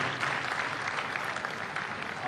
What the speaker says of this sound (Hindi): क्या बात है, जोरदार ताली होनी चाहिए।